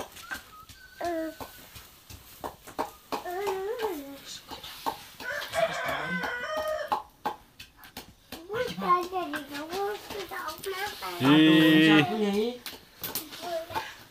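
Chickens clucking among children and adults chatting nearby, then one loud rooster crow rising above the voices near the end.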